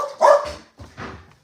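Dogs bark excitedly just before a walk: a loud, close burst of barks followed by two shorter, quieter yaps, with no other sound behind them.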